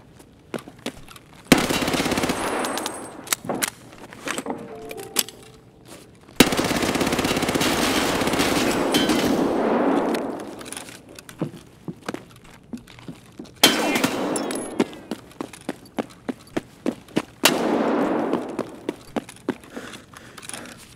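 Submachine guns fire in Escape from Tarkov in long, loud automatic bursts. Several sustained streams of gunfire are broken by short stutters and single cracks, with clattering echoes after each burst.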